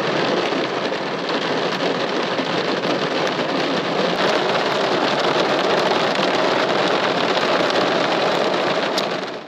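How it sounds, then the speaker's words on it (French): Rain falls steadily outdoors beside the water under a bridge, a dense, even hiss that holds at a constant level from start to finish. "Malheureusement, il pleut maintenant."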